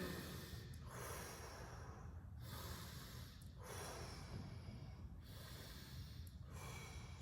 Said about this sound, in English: nice big belly breaths